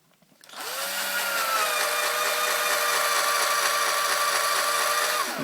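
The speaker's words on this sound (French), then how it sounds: "une scie cloche." A power drill with a hole saw spins up and grinds steadily at high speed for several seconds, loud and close, then stops, cutting into a snare drum practice pad.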